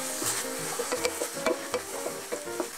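A meat filling for blini and pirozhki fries in a pan after a splash of wine, stirred with quick irregular scrapes and taps over a close, crackling sizzle.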